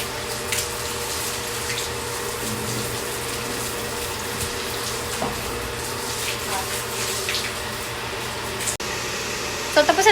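A steady rush of water sprays across a van at a car wash, continuous and fairly loud, with a few faint clicks near the end.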